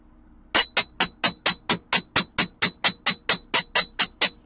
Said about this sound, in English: just hammering all my U-shapes flat